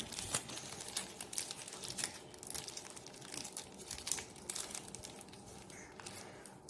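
Paper crinkles and rustles steadily as a piping cone is folded, a close, continuous dry crackling with no talk.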